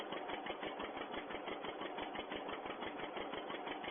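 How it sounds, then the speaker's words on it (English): A farm tractor engine from 1951, recorded on an old, muffled-sounding track, runs at a steady, fast chugging beat with regular knocking pulses, moderately close and with no voices. "This will probably be the next tractor"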